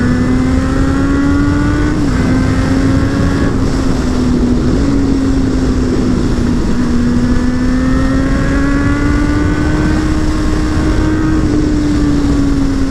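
A car drives fast through Cheddar, its engine holding a loud, steady drone with slight rises and dips in pitch as it pulls along, close and unbroken throughout.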